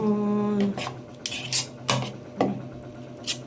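An old rice cooker's lid is handled in a home kitchen, giving a series of separate metallic clatters and clinks, close and fairly loud, spaced across a short stretch after a brief tonal hum.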